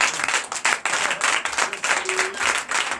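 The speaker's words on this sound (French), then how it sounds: "C'est vos applaudissements." Congregation clapping at a Sunday church service in Benin, dense continuous applause filling the room, loud and steady throughout with no talk over it.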